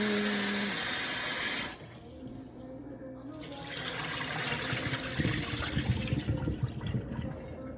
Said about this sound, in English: So I'm gonna wash my rice off.